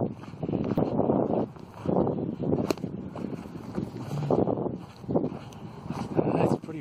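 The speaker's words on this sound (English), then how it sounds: "It's pretty windy now." Strong gusts of wind buffet the microphone in rumbling bursts outdoors at a paramotor RC model flight, rising and falling repeatedly, with a faint voice murmuring beneath.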